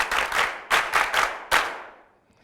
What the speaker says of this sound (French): je vais les inviter d'abord à s'applaudir